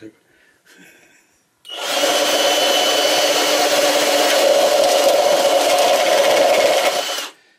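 A power drill with a normal bit bores through material while building a pyrolysis stove, a loud continuous whining drone lasting about six seconds after a few faint handling noises.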